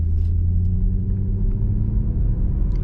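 A 1991 Mercedes-Benz 500SL cruising on a mountain road gives a steady, loud low engine rumble with road noise, even and unbroken, no talk.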